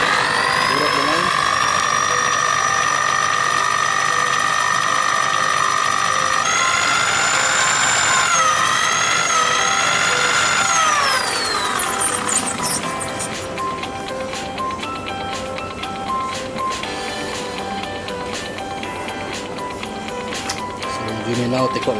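A spooling machine winds slim PE fishing line onto a spinning reel, giving a steady high whine and mechanical whir that shifts pitch midway, then settles into a lower continuous hum with faint clicks throughout.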